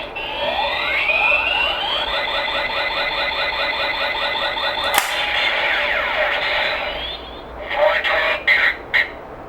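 Kamen Rider Kabuto Zecter toy sounding its rider kick effect: a loud, continuous electronic alarm-like warble for about five seconds, a sharp click, then more electronic tones that break into choppy bursts near the end.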